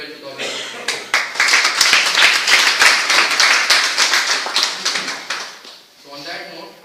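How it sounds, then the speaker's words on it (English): A room full of people applauding at a farewell ceremony, dense clapping that swells quickly, holds loud for several seconds and then tapers off into murmuring voices. "So with a round of applause, let's inaugurate the ceremony of our lifetime."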